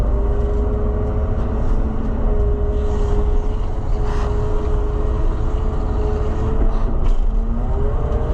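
A steady, droning White 4-180 tractor engine runs continuously at a constant pitch, loud and close, with a low rumble and no speech.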